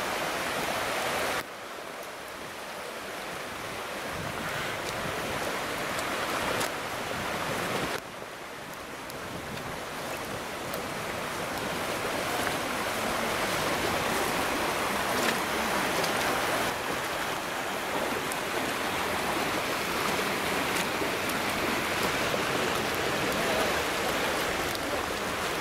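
Water of the Nahal Modiin stream, running in flood, makes a steady broadband rushing. Wind noise buffets the microphone, with a couple of brief dips, and no voices are heard.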